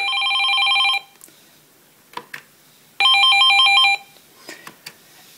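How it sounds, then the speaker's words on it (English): A BT Versatility telephone plays a ringtone option in two clear electronic bursts about a second long, separated by a pause, close and loud with no talking. "And you can set your own distinguished ringtone."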